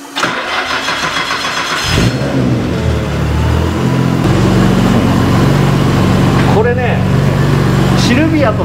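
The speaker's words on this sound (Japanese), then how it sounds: "エンジンかけてみましょう。" A Nissan Skyline GT-R R34 (BNR34) engine cranks and fires up loudly, then settles into a steady, deep idle, with brief chirps or voices near the end.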